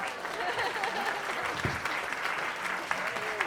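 An audience at The Ark, a small concert venue, applauds a performer after a song; steady clapping fills the room with a crowd murmur and brief voices beneath it.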